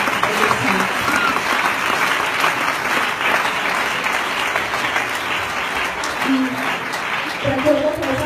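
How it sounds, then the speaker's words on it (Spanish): A church congregation claps in sustained, loud applause, a dense wash of hand claps filling the space from start to finish, with voices faintly audible under it. "Denles aplausos al Señor, porque es bueno, es misericordioso."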